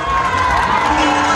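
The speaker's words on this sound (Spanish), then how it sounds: "Un aplauso más grande a estos chiquititos." Applause and cheering from an audience at a folk dance show of cuecas, a dense, loud and continuous crowd roar with clapping throughout the short stretch.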